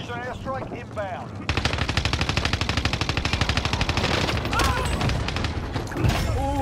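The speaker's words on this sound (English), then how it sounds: "Got him with the airstrike though" Airstrike in a military video game: a sudden loud onset of rapid, rhythmic automatic gunfire and explosive bursts that rolls on for several seconds, with voices talking over the start and end.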